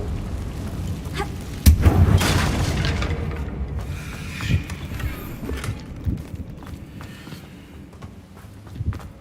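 A Confringo blasting spell goes off in the Hogwarts Legacy video game, a loud booming explosion near the start followed by rumbling debris and a few smaller impacts fading under game background noise.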